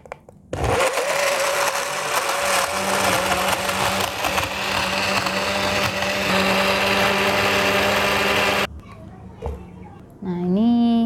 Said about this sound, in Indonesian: sekarang kita blender dulu